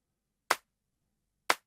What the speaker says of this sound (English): add an additional clap loop